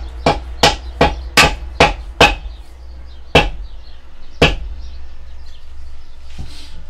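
Hammer blows strike while a balcony is being demolished: a quick run of six sharp, loud impacts, then two more spaced-out blows, each ringing briefly against low background noise.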